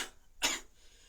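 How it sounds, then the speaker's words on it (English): One person gives a single short, forceful demonstration cough, close and isolated against near silence. "and there's sort of cough like this"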